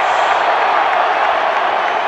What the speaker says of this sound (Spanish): quiero que escuchen la ovación que le hicieron a Derrick Rose